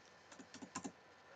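Keys tapped on a computer keyboard while a QBasic program is typed, a short faint burst of several quick clicks.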